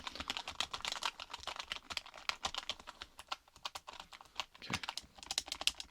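Keys on a computer keyboard clatter in close, soft, rapid bursts during a clinic registration role-play, with short pauses between runs. A voice speaks briefly once.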